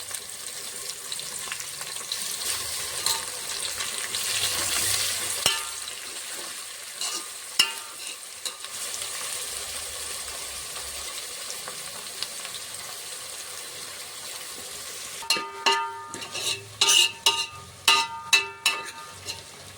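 Ginger, onion and green chili sizzle steadily in hot oil for a fish curry, a continuous frying hiss with a few utensil clinks, then a run of sharp spatula scrapes and taps near the end.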